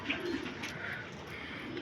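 Pigeons cooing close by in a small group, soft, throaty repeated coos that overlap one another in a quiet indoor setting.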